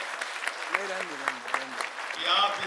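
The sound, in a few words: crowd applauding at political rally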